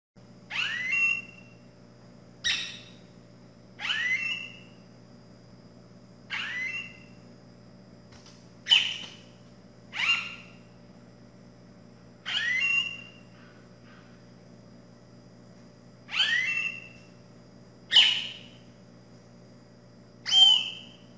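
A rufous-bellied thrush (sabiá-laranjeira) sings in Brazil, imitating other birds: about ten short, bright whistled phrases spaced a second or two apart, fairly near and clear over a steady low hum.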